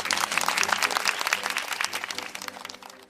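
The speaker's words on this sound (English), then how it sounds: "applause broke out in the courtroom" Applause breaks out in a courtroom after a verdict, a dense patter of many hands clapping at moderate volume, steady and slowly thinning toward the end.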